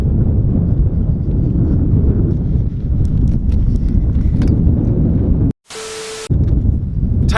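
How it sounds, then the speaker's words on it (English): Strong wind blows outdoors at a running track, buffeting the microphone with loud, continuous low roaring. A short break near the end interrupts it. "As I'm sure you can hear, it's pretty bloody windy"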